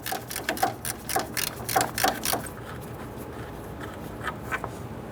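A ratchet loosens and removes an 8mm radiator bolt on a 1994-2004 Ford Mustang, giving close, rapid bursts of clicking that fade into quieter, sparser clicks.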